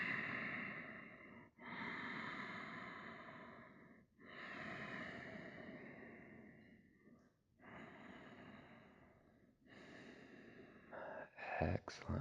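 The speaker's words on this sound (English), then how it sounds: "Inhales through the nose, exhales out the nose" Slow, soft breathing in and out through the nose, several long airy breaths separated by short pauses, close and quiet, with a brief rustle at the end.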